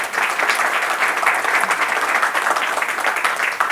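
A live audience bursts into full, steady applause, a thick wash of many hands clapping at once that stays loud and even throughout.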